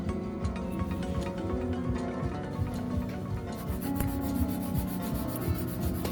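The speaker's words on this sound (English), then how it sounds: "when you're filing, you want to make sure you get those sides really nice and straight" A nail file works the sides of a gel nail during a full set with colour-change gel, producing a close, steady scratchy rubbing in quick repeated back-and-forth strokes, heard alone without talk.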